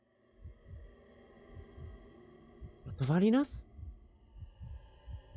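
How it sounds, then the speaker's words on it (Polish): A steady, low heartbeat thumps in a slow regular rhythm throughout in the video game Call of Duty: Infinite Warfare, with a brief spoken question rising over it midway. "Serce bije."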